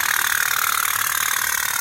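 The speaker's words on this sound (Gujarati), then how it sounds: "આ સ્ટીમ સ્ટીમ એન્જિન છે સ્ટીમ એન્જિન બી ચાલુ છે" A small toy steam engine boat putters in a fast, steady, even rhythm, close and continuous with no voices.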